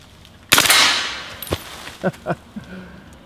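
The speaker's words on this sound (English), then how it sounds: "So let's put it on full auto." A loud burst of full-auto MP5 submachine gun fire cracks out, followed by a few scattered sharper shots and metallic impacts trailing off outdoors.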